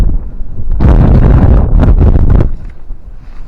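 Heavy wind buffeting a microphone outdoors in the Elenydd uplands, a loud roaring rumble that swells for a couple of seconds and then eases to a softer gusting.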